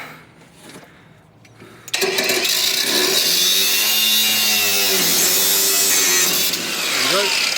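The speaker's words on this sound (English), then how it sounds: "So get the grinder on that." Angle grinder cutting through the metal fuel tank of a Porsche 911 930 Turbo, starting abruptly and then a loud sustained screech with wavering pitch, close up, after a quieter lead-in.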